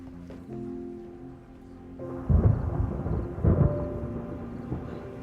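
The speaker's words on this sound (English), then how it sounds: "Big storm coming" Thunder rolls in from an approaching storm, beginning as a low, distant rumble and then breaking into louder, heavier cracks and booms that continue to rumble on, with no one speaking.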